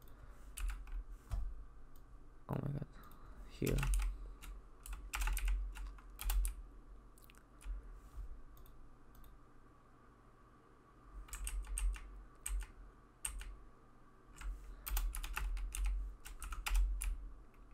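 Bursts of computer keyboard typing come in clusters of quick clicks separated by quiet pauses, close to the mic, with a brief muttered voice early on.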